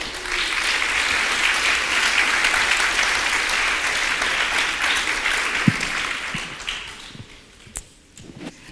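Audience applause welcoming comic book editor Charles Kochman at the Miami Book Fair International, a dense, steady clapping from a large crowd that carries on for about seven seconds and then thins out to a few scattered claps at the end.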